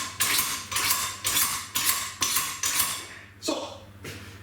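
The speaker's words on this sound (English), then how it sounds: "are brilliant for sharpening knives" Knife drawn through a knife sharpener in a home kitchen, six rhythmic rasping strokes about half a second apart, then a couple of softer scrapes, close and fairly loud, with no talking.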